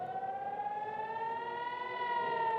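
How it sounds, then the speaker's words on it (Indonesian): A civil defense siren wails steadily during a rocket attack on Nahariya, a sustained rising tone with strong harmonics, heard alone at a distance. "Sirine pun terus berbunyi tanpa henti saat rudal memasuki langit kota Naharia."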